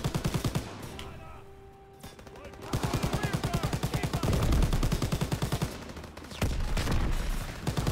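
Rapid bursts of MG machine gun fire in Call of Duty WW2, loud rhythmic rattling in long strings with brief pauses between volleys, amid battlefield noise.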